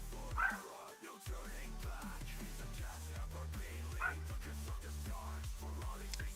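Dogs bark and whimper faintly in the background during a live F1 25 sim-racing stream, under a steady hum of game engine noise.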